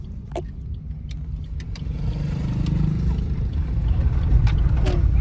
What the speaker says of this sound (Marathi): गाडी चालवतो